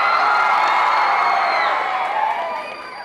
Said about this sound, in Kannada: ನಿಮ್ಗೊಂದು ಚಪ್ಪಾಳೆ.